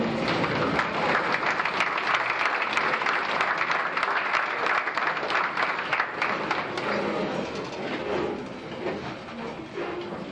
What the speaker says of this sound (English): give them a round of applause for coming with you tonight